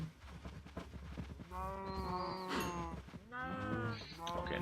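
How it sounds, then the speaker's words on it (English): Cows moo in Minecraft, several drawn-out, low game-animal lows in a row, close and fairly loud, overlapping one another with no talking. "let's just breed up all these cows for no reason."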